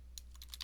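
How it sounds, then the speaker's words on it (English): A few quick keystrokes on a computer keyboard, close and crisp, with no voices over them. "So let me type this out."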